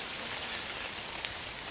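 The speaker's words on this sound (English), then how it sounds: "I apologize for the sound of the rain." Steady rain falls in a dense, continuous hiss, with a few louder drops landing on a surface and no voices.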